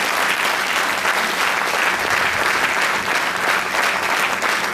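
A crowd at a gathering of intellectuals welcomes the politician Vinod Tawde with loud, dense applause that stays steady throughout.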